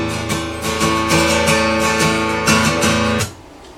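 A minor chord strummed repeatedly on a guitar in a steady rhythm, close and ringing, before the strings are damped into silence near the end.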